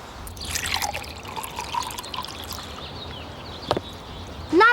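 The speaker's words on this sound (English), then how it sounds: "Pour some water into a bowl full of cotton balls." Water poured into a bowl full of cotton balls, a soft splashing trickle with a few drips, close and fairly loud, ending in a brief louder burst.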